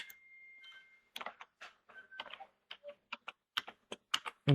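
Close computer keyboard typing in uneven bursts of quick clicks with short pauses, ending on a heavier thump; no talking.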